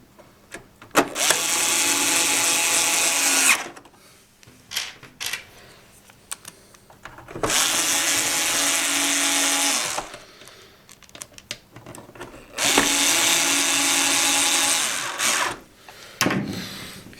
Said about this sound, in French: Nous finirons de les serrer avec le tournevis pour ne pas que la visseuse ne serre trop fort.